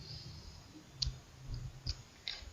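A few soft, sparse key clicks from a computer keyboard while entering data into a spreadsheet program, close and quiet over faint background hiss.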